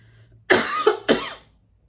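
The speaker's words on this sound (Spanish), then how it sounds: "A mí no me había dado tos en todos estos días." A person coughs about three times in quick succession, close and fairly loud, with harsh rasping bursts that then fade into near silence.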